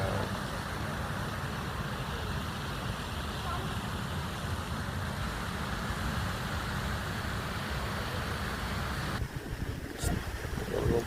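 Steady roaring wind gusting across a microphone in a flower garden by ponds, broad and continuous, with a brief dip near the end.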